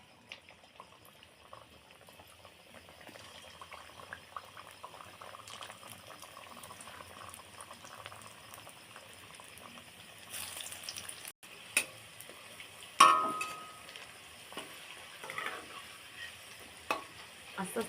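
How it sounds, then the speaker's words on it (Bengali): Vegetable singaras fry in oil in a wok with a steady, soft bubbling sizzle that builds and crackles more sharply in the second half, with occasional clatter from stirring or turning. "আস্তে আস্তে উল্টিয়ে ভেজে নেব।"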